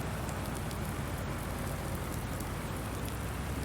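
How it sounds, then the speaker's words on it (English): Steady, dense rainfall in a video game patters continuously on surfaces, a close, even hiss with no voices. "it is raining"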